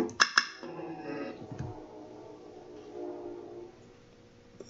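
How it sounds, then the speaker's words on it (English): A train passing outside, its horn sounding briefly at the start, followed by a low rumbling wash that slowly fades. "That's a train outside, you're probably hearing."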